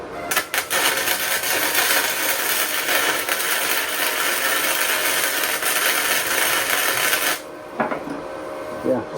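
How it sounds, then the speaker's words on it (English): Welding motor mounts onto a 1961 Mercury Comet: a loud, steady crackling hiss runs for about seven seconds without a break, then cuts off, with a few faint scrapes after it. "Can't see anything that I'm welding."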